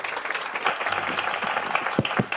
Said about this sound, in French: Faites-leur un petit applaudissement.